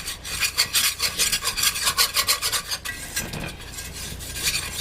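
A utensil scrapes and digs across the bottom of a cooking pot while flour cooks out for a Salisbury steak gravy, giving a steady rhythmic rasping at close range, loud and without speech.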